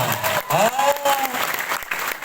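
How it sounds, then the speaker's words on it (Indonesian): An audience at a school religious lecture for Maulid breaks into loud, close applause in bursts, with talk and voices mixed through. "Tepuk tangan semuanya"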